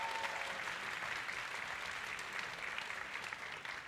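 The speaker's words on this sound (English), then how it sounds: "I think we need to give them another round of applause" An audience at a school event gives steady, fairly distant applause for student performers, a continuous wash of clapping that holds evenly throughout without talk over it.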